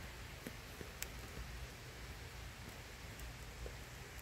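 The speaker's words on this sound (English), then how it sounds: "the rain's coming down" Steady rain falls during a thunderstorm in southeastern Pennsylvania at sunset, a faint, even hiss with a few scattered drip ticks throughout and no talking.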